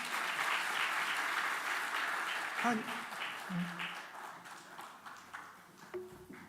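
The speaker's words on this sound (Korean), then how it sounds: "우리 박수 부탁드립니다." Congregation applause during a Christmas morning church service at a certificate presentation, steady many-handed clapping that gradually thins and fades, with brief voices and a faint tone poking through in the second half.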